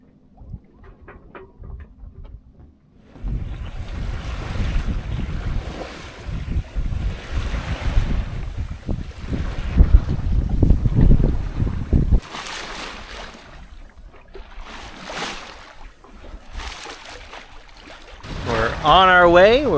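Wind rushing past the microphone and waves washing along the hull of a sailboat cruising at about four knots, a broad steady roar that swells and eases, with occasional louder gusts.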